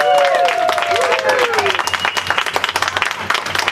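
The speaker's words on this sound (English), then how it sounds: "Can we get another round of applause for all of our speakers?" An outdoor crowd at a historic plaque unveiling at the Alex Haley Home and Studio applauds, with a person talking over the clapping at first before dense, close applause carries on alone.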